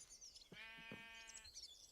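A single sheep in the video game Minecraft lets out one clear, wavering bleat of about a second, heard alone over faint background.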